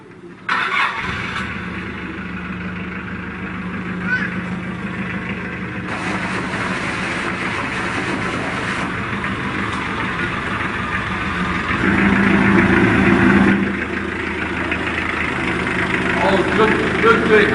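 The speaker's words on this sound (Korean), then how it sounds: "잘 나가는 엔진 사운드 좀 한번 시동 걸어보세요." A car engine cranks and catches about half a second in, then settles into a steady idle that swells slightly in the middle, with voices in the background.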